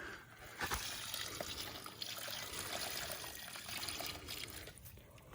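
Water trickling and pouring steadily into a roughly three-gallon hole dug in the ground outdoors, a close, continuous wet dribble that drains away without pause.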